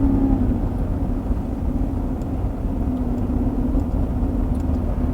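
A 2020 Mercedes-Benz GLE 450 with a 9-speed automatic transmission drives on the road while the paddle shifters are used. Inside the cabin there is a steady, low road-and-engine drone with an even rumble and no distinct shift clunks. No one speaks.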